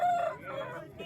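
A rooster crows once at a Vijayawada poultry market, a loud, close call that rises and then trails off, with market noise in the background.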